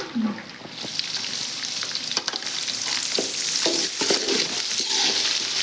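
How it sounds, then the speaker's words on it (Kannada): Onion, green chili and coriander frying in a pan while being stirred, a steady broadband sizzle with scraping strokes running throughout, close and fairly loud. "ಎಲ್ಲ ಹಾಕಿ ಈಗ ಚೆನ್ನಾಗಿ ಮಿಕ್ಸ್ ಮಾಡ್ಕೋಬೇಕು ರೀ"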